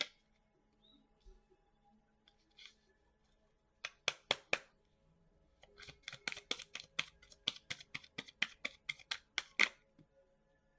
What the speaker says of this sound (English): I just gotta pull out 3 more cards.